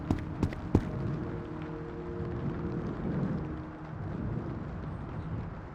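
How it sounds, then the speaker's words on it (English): Steady rain in Road to Vostok, a continuous soft hiss with a few sharp knocks at the start and a low hum underneath, heard alone without talk. "It might just be the rain."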